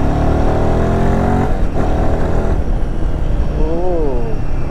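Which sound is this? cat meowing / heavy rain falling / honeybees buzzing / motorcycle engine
motorcycle engine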